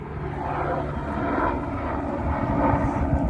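A helicopter passes over rural property where traps are being checked, giving a steady, broad rotor-and-engine drone that swells slightly louder as it nears. No one talks.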